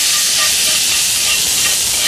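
Thinly sliced onions stir-fry in hot oil in a pan for japchae, a loud, steady, dense sizzle that hisses continuously without a break.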